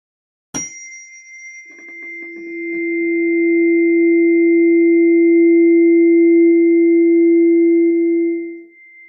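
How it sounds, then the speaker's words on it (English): A sharp metallic strike on a tuning fork rings into a pure, steady sustained tone that holds for several seconds before fading out, heard alone. "here is the sound of the Ehyeh tuning fork"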